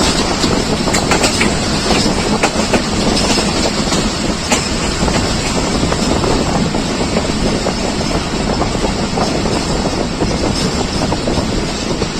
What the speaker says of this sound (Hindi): स्लो स्पीड में वजीराबाद जंक्शन क्रॉस करेगी रावल एक्सप्रेस